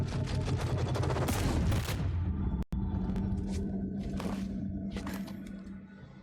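Sniper rifle shots ring out in a Star Wars video game, a dense burst of sharp gunfire cracks over a low rumbling bed, then a brief cut and scattered, fading shots.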